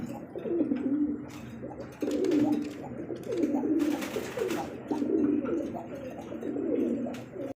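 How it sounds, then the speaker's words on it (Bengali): Fancy pigeons cooing, a run of repeated low rolling coos in regular phrases, close and fairly loud, with no talk over them. "এটা হচ্ছে শৌখিন কবুতর"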